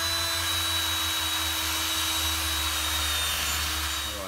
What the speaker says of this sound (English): So I just got a wire brush on my drill. So I'm just going to give this a clean up.